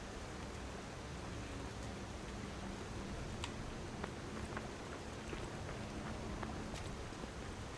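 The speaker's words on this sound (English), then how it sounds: "I mean, it's raining." Rain falls steadily in the dark world of the video game Lies of P, a soft, constant hiss with scattered faint drip ticks, evenly quiet throughout.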